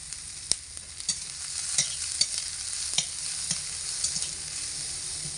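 Chopped onion, garlic and green chili sizzle in a pan while a utensil stirs them, with soft repeated scraping clicks over a steady close fry, no talking.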